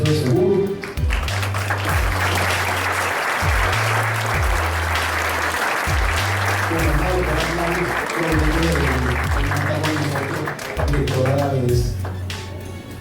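Conference audience at an insurance seminar applauds steadily and loudly for the whole stretch, with a low tonal bed of music or voice running underneath the clapping.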